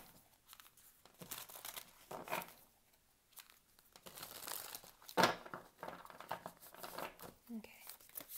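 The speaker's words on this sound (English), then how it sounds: "this deck is challenging as heck to shuffle" A deck of tarot cards being shuffled with broken crinkling and riffling bursts, close and fairly quiet, amid soft handling noise and a voice speaking at points.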